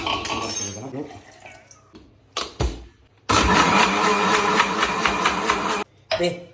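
Herbal lemon water poured through a strainer into a glass, with bursts of splashing liquid between clinks of utensils and short gaps, close and fairly loud.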